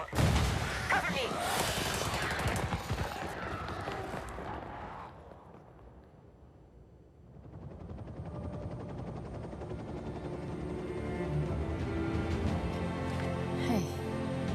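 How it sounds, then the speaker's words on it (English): A video-game firefight with dense gunfire and blasts at the start, a brief lull, then heavy shooting and explosions building again around a door breach. Voices are heard amid the noise. "Nomad, blow the door. Cover me."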